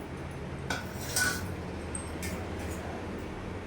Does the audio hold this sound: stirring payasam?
yes